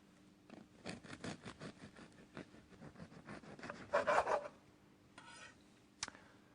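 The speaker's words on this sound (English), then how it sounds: "First, slice the bread." Bread sliced with a knife, a run of quick, close rasping strokes with short pauses, the sawing louder near the end, followed by a single sharp knock.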